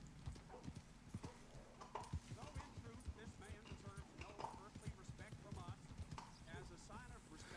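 A Piebald Tobiano horse in Red Dead trots along during free roam, its hooves clip-clopping in a brisk, regular rhythm at close range with occasional snorts, while a voice talks quietly underneath.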